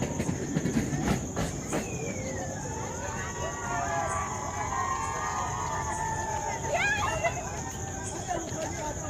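A passing train at Goram Ghat in Rajasthan, a long steady rumble with squealing wheel tones rising and falling, heard close by with voices mixed in.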